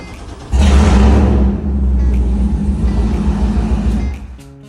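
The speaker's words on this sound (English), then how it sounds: "we'd like to start the engine, let it run for 10-15 minutes if you have a hose available" A boat engine, being readied for boating season, cranks and catches after a brief pause, roars loudly as it revs, then settles into a steady, rumbling idle before cutting off near the end.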